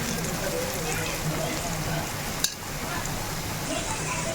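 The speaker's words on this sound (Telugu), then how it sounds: "ఇప్పుడు 1/2 టీ స్పూన్ పసుపు వేసుకుందామండి. ఇదంతా కలుపుకుందాము." Turmeric being stirred into an egg and garlic curry in a pan, a steady sizzle with soft scraping of the spoon under the frying, plus one brief sharp knock midway.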